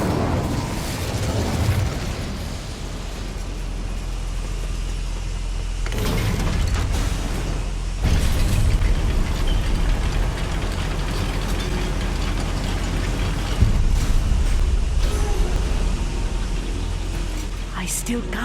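Incendio fire spell cast in Hogwarts Legacy, loud sustained roaring bursts and booming fire effects over a continuous rumbling game soundscape, with a few stronger surges partway through.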